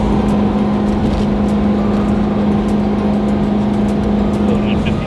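A 2024 Ford F450 pickup, towing, rolls steadily downhill on a 5% grade at around 50 mph with no braking, giving a constant loud drone of engine and road noise and a steady low hum throughout.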